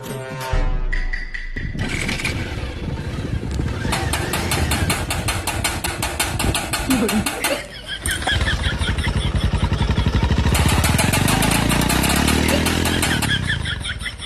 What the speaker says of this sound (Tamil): வண்டியில பட்டு பட்டுன்னு சவுண்ட் வர மாதிரியா இருக்குது